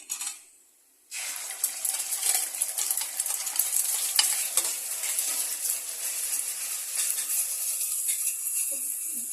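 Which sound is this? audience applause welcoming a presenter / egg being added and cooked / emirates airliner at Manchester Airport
egg being added and cooked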